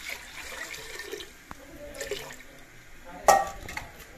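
About two kilograms of water pours steadily into a metal pressure cooker, a soft continuous splashing with a brief clink near the end.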